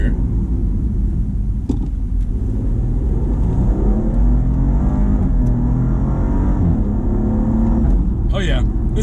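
A 2019 Maserati Ghibli engine drones and revs up and down up close, a low rumbling whir that rises and falls steadily throughout.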